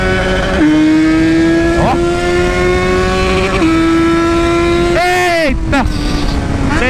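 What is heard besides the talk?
motorcycle accelerating hard near rev limiter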